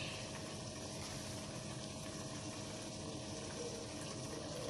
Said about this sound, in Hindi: अब हम इसमें ऑयल डालेंगे